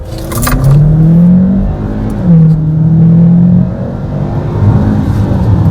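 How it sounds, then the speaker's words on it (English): A 2017 Hyundai Santa Fe Sport with a six-speed automatic and possible turbo accelerates hard from 15 mph, the engine note rising and dropping through gear changes with a faint whine over steady road rumble inside the cabin. "then I'll hit the accelerator and see if you can hear anything in the background"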